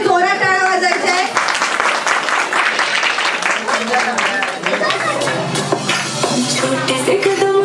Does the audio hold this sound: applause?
yes